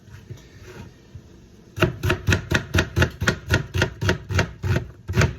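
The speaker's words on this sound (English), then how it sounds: "when you slice an onion up from the root like this, you just get a better texture" A knife slices through an onion from the root on a cutting board in a home kitchen, making about a dozen quick, evenly spaced, crisp cuts close by after a brief quieter moment.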